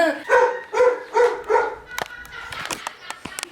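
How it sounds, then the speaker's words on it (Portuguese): A neighbour's dog barks four times in a steady rhythm, followed by scattered clicks and knocks with no further barking. "Esse cachorro não cansa de latir."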